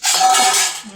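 Dishes and cutlery clink as a tiffin lunchbox is packed with home-cooked food in a kitchen, a brief bright metallic rattle close by and fairly loud.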